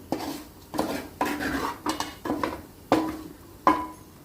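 Fried chicken being mixed in a bowl, a series of about seven distinct metallic clinks and scrapes of a spoon against the bowl in an uneven rhythm, close and clear, with no talking.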